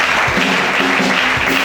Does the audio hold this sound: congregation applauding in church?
yes